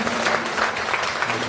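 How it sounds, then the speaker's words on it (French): Audience applause and cheering at a school awards evening, a continuous dense wash of clapping from a crowd, steady and fairly loud throughout. "Encore des acclamations."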